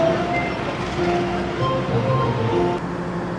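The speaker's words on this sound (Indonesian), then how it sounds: "Yang nampak di jalur 1 ini adalah kereta Fajar Utama Yuk ya" Fajar Utama Yogya passenger train standing at track 1 of a station, a steady low rumble and hum of the train and station noise with faint tones, continuous and moderately near.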